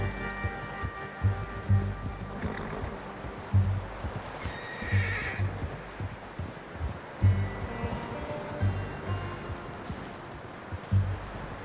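A horse in the Red Dead Redemption 2 video game whinnies and neighs while its hooves clop along in a steady rhythm over soft ground, close and fairly loud, with light rustling in the background.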